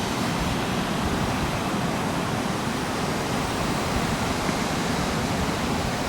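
The Upper Falls of the Yellowstone River roar in a dense, steady wash of white noise, a constant broadband rush heard from nearby with no breaks.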